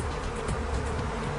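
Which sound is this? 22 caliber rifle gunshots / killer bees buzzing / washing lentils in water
killer bees buzzing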